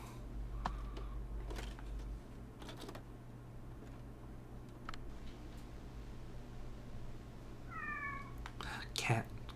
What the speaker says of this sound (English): Cat, cat, cat, cat.